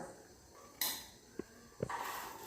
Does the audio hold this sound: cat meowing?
no